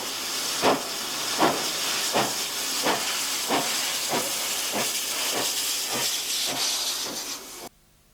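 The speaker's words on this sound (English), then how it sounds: "it was their first ride on board a steam locomotive" A steam locomotive gives a steady, loud hiss of steam with rhythmic chuffs recurring under it about every three-quarters of a second, then the sound cuts off abruptly.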